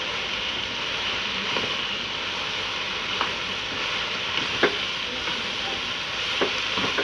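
Cabbage and onion sizzle steadily in a pan over a high flame while cooking Chinese rice, with occasional faint clicks of stirring and no talking.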